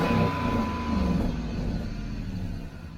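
A Dodge Magnum engine with an exhaust leak runs steadily up close, producing a loud, continuous rumbling drone with a rough, broadband hiss throughout, easing slightly near the end.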